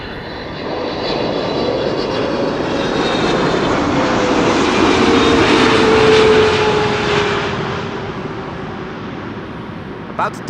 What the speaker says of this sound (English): So this is KLM flight 592. It is a 777-300 arriving from Johannesburg